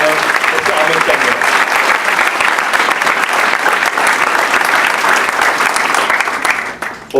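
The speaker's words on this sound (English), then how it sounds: "Ladies and gentlemen, give a huge round of applause for a guest of honor, Mr. Amit Chandra." Loud, dense applause from an audience greeting a guest of honor at a fireside chat event, sustained steadily for several seconds before starting to fade at the end.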